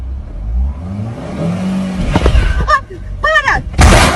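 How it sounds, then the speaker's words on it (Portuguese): A car pulls away as the clutch is released: a low engine hum rises in pitch, then loud revving bursts and harsh bangs follow, close and strong. "Solta a embreagem. E vai acelerando."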